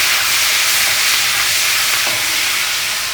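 Spices and tomato being stirred in a hot pan while cooking Peruvian-style fried fish, a steady frying sizzle and hiss running throughout with faint scraping of the stir.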